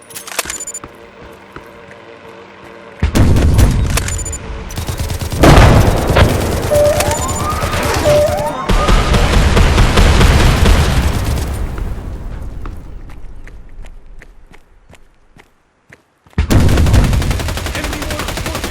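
Gunfire and mortar fire in the video game Hired Ops: bursts of loud, close shots and booming blasts, with near-continuous firing broken by short quiet gaps.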